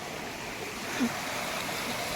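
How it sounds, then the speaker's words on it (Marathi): Floodwater rushes through a river swollen by half an hour of heavy rain in a village, its steady broadband roar close and continuous like a stream or waterfall, with no voices over it. "बघा बघा पूर बघा"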